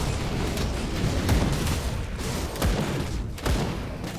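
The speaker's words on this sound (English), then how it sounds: "Grenades for everyone." Several dull booms from grenades going off in the action RPG Grim Dawn, spaced across a few seconds over a dense, noisy battle mix with no talking.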